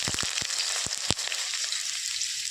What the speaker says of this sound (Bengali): এবার আমি তেলের উপরে আলুগুলো দিয়ে আলু ভেজে নেব।